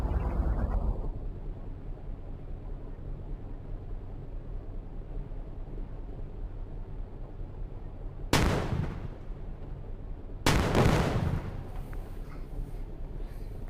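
Two loud, sharp cannon blasts from a video game, a couple of seconds apart, each followed by a short rumbling decay over a steady low engine-like drone.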